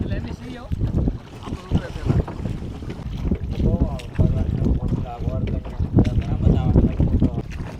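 Two small boats with their boatmen carry a group of seven across open water. A steady rumbling motion runs throughout, with gusty wind buffeting the microphone and a loud, continuous wash.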